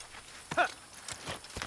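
Horse hooves clip-clop in the video game Assassin's Creed, a run of quiet, evenly spaced hoof strikes with a brief louder accent near the start, moderately faint throughout.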